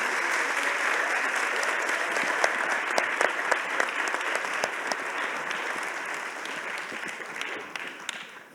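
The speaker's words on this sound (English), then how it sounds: "please give them another big round of applause to Lindsay Davis of ABC News" Sustained audience applause fills a summit plenary hall, a dense, steady wash of many hands clapping close and loud that begins to thin slightly near the end.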